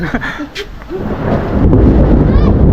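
Thunder rumbles through a storm in rural Mindanao, a low, continuous roll that swells louder toward the end, with rain noise and brief voices at the start.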